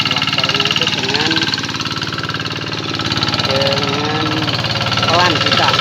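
A hand tractor engine runs continuously while working a wet rice paddy, a loud, steady, rhythmic thumping chug close by, with someone speaking over it throughout.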